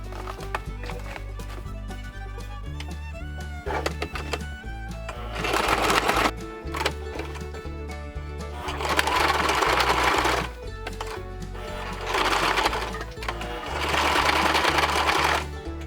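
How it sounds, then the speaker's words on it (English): A sewing machine stitches the corners of an outboard gas tank cover in several loud, fast whirring bursts separated by short pauses, close up with no talking. "I'm just going to go back and just put a few stitches on each corner"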